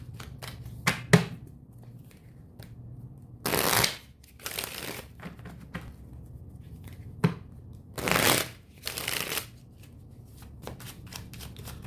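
Tarot cards are shuffled by hand in several quick bursts of riffling and flicking, separated by quiet pauses and small taps, close and moderately loud.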